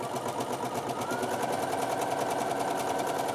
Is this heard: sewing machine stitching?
yes